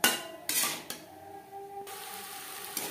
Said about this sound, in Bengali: বেশ ভালো করে মিক্সড করে দেব।